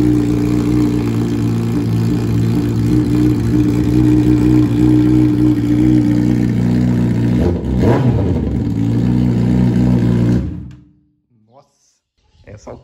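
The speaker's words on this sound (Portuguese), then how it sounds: "Vamos ver agora como fica o escape só o cano." Honda CBR 1000RR Fireblade 2018 motorcycle engine held at steady high revs through a bare exhaust pipe with no tip, a loud continuous drone with a brief dip, cutting off near the end.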